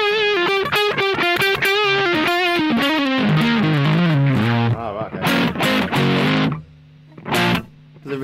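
An electric guitar plays a descending run of notes then strummed chords, with a dry sound and no reverb tail between hits.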